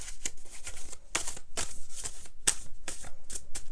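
A deck of tarot cards is shuffled by hand up close, a run of crisp riffling bursts and soft papery slaps repeating in an uneven rhythm, with no one speaking.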